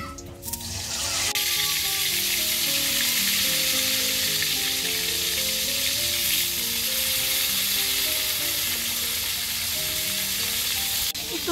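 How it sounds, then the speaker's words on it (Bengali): Spiced, masala-coated eggplant slices (begun bhaja) fry in hot oil in a kadai, giving a loud, steady sizzle and crackle throughout, with faint tapping of utensils and no talking. "তেল গরম হয়ে গেছে, এখন এই যে মশলা মাখানো বেগুনটা দিয়ে দিব"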